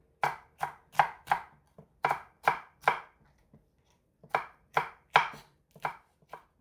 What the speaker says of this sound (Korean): 청양고추 반으로 잘라서 어슬어슬 썰어줍니다.